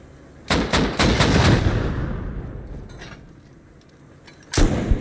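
Gunfire in the video game Console Rust: a quick burst of several loud, sharp shots close together, echoing noise fading over a few seconds, then one more loud shot near the end.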